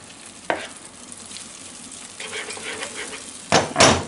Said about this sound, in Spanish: estrellamos un huevo que queda riquísimo